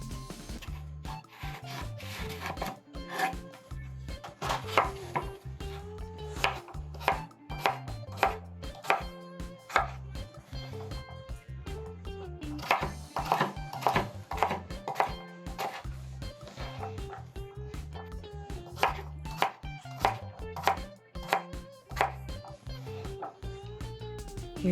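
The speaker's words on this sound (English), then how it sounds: "We're just going to cut our sweet potato into more manageable pieces for boiling." Steady knife chopping on a cutting board, quick repeated thuds through a sweet potato with music playing underneath throughout.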